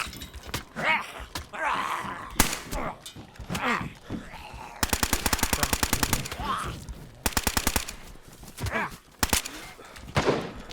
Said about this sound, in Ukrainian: Чув постріл?